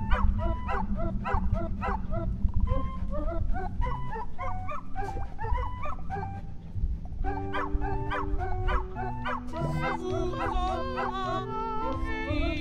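Big wolf-dog monster in the video game Wandersong barks and howls in repeated yelps over a steady game music backdrop, loud and close throughout.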